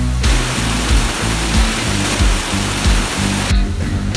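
A strong waterfall current pours down at Curug Cikondang during canyoneering, a loud, steady roar of rushing water that holds throughout with no voices.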